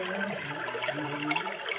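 Steady rushing flow of a river passing under a bridge, a broad ocean-like wash of water that stays continuous and fairly close for the whole stretch, with no voices.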